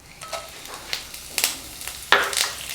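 Curry leaves frying in sesame oil in a pan for a spicy idli podi, giving soft sizzling crackles with a few sharper bursts and spoon stirs, fairly close and without any talk.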